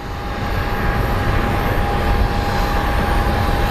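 A FedEx Boeing 767 departs Phoenix Sky Harbor airport, its engines giving a steady, broad jet roar that holds at an even, fairly loud level throughout, with no voices over it.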